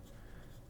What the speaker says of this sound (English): I just cannot write with that nib